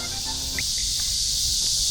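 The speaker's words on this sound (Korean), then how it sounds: "매미 소리가 엄청 크네" Cicadas in a lake park produce a loud, continuous high-pitched drone that fills the scene steadily without pause, with faint background noise beneath.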